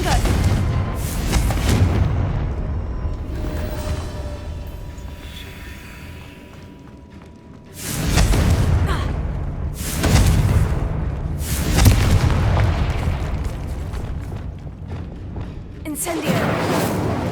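Confringo explosion spells cast in Hogwarts Legacy, heard as loud booming blasts that come in repeated bursts at roughly two-second spacing, with quieter stretches between them and a voice shouting spell names.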